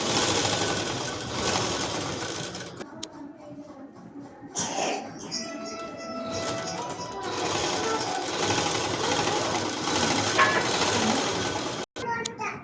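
A sewing machine stitches a gathered body skirt at a tailoring class, running in steady mechanical bursts with short pauses, while someone talks over it and children's voices drift in from the background.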